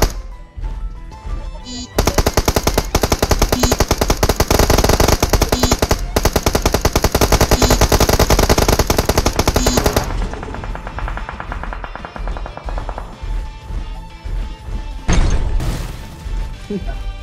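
Rapid automatic gunfire during a shootout in a first-person shooter game, a dense, loud burst lasting several seconds before trailing into scattered shots, with players talking over it.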